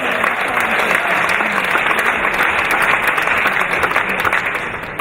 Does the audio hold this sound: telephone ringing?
no